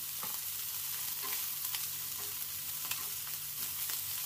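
Chicken sate taichan skewers sizzle steadily in a pan as they are turned over, a constant close frying hiss with faint scrapes and small pops throughout.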